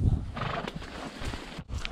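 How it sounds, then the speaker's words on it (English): A horse or mule on a steep mountain climb gives a neigh over shuffling hoof steps and rustling, a fairly close but low-level outdoor sound. "How's your horse holding up, Casey?"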